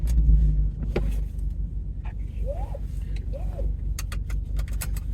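Idling Alfa Romeo car about to set off on a test drive after repairs, a steady low engine hum with a few clicks and a faint rising whine, recorded close from inside.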